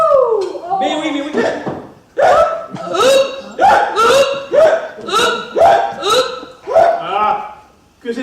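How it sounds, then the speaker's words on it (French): A woman hiccups repeatedly in a stage comedy, a string of loud, close hiccups mixed with laughing, squeaky vocal sounds. "j'ai le hoquet"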